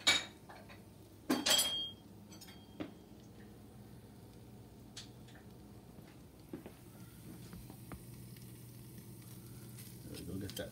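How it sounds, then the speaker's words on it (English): Butter melts in a guitar-shaped skillet with a faint, low sizzle, broken early by a few sharp clanks of a utensil against the pan, then a quiet steady frying hiss. "first I'm going to butter up the pan a little bit"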